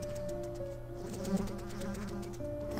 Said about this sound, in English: The buzzing of the flies does not help either.